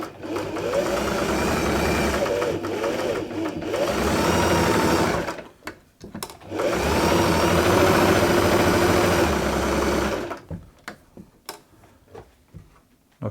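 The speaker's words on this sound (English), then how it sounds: "And do a quick test sew." A Singer 328P sewing machine running in two sustained bursts of test stitching, a steady motor hum with rapid needle chatter. It stops briefly between bursts, then ends with a few quiet clicks and handling noises.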